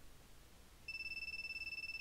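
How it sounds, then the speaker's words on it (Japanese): A telephone suddenly starts ringing in a Japanese horror video game. The electronic ring is steady and pulsing and starts partway through after quiet background hum, with no talk over it. "で、電話？ かかってくるんかい。"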